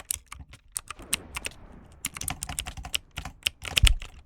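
Fast, uneven clicking keystrokes on a mechanical keyboard with blue switches, sharp close clacks in bursts with brief pauses and a heavier thump near the end, no talking.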